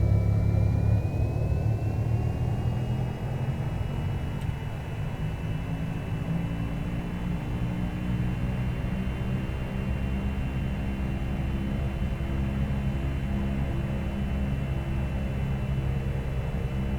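A bush plane engine in the X-Plane 11 flight simulator, set in Alaska, drones steadily and loud through a takeoff roll, its pitch rising slightly near the start and then holding a constant rumbling tone.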